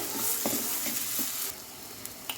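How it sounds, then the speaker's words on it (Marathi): Masala spice paste for egg curry frying in a pan, a loud continuous close hiss and sizzle with soft stirring scrapes, easing slightly in the second half, no talking. "आपला मसाला छान फ्राय झालेला आहे"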